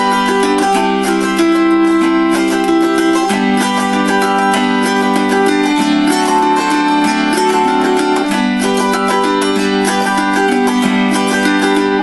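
An autoharp strummed steadily in a hamburger strum that slips into a Travis thumb-index-thumb-middle picking pattern, bright ringing chords sustained and continuous, played alone with no talking.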